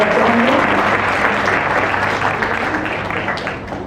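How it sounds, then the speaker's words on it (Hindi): Audience clapping to welcome a city mayor at a public event: loud, dense applause from a hall full of people, strong at first and gradually fading toward the end. "उनका एक बार ताली बजा के आप सब स्वागत करेंगे"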